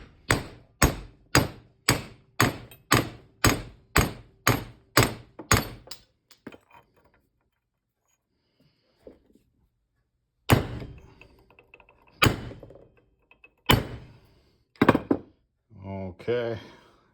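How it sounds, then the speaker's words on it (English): Hammer blows drive a spindle shaft out of an Ariens zero turn mower deck, about a dozen sharp metallic strikes in quick steady rhythm, then a pause and several more spaced, heavier hits, with brief talk near the end. "Just going to drive it down with a hammer"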